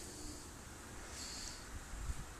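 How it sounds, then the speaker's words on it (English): Steady wind buffeting a microphone, a continuous rough rumble with gusts building slightly near the end, no voices. "I apologize for the wind"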